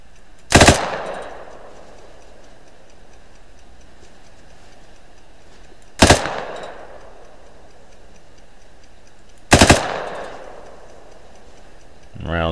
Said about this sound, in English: Rounds are dropping right in front of him